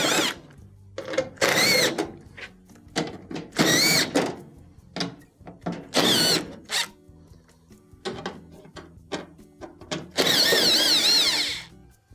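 A power drill or driver removing quarter-inch screws from the back plate of a GE dryer, several loud whirring bursts of varying length separated by short pauses and clicks, with a long final run.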